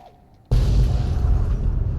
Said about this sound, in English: who wouldn't want massive explosions for 26 straight minutes?